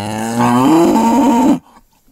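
A cow in a village gives one loud, close, drawn-out moo that rises and wavers before stopping abruptly, followed by near silence.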